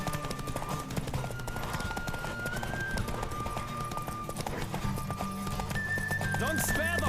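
A horse gallops in The Witcher 3: Wild Hunt, its rhythmic clip-clop hoofbeats running steadily under continuous game music. A whinny cuts through, and someone talks over the ride throughout.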